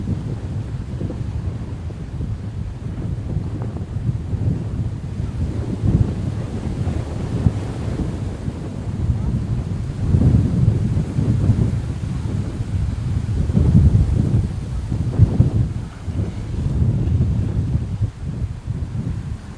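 Strong wind at Pannai Beach in Jaffna buffets the microphone in loud, surging gusts, with the rumble of shallow-sea waves breaking beneath it, rising and falling continuously and never letting up.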